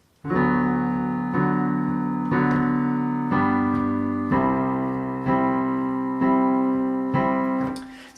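Piano chords strike in a steady pattern, a new chord roughly every second, ringing out clearly with no voices.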